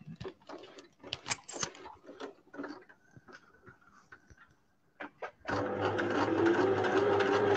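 A sewing machine stitching a shirt collar starts with scattered clicks and short handling taps. It then breaks into a loud, steady mechanical whir of running stitches for the last couple of seconds.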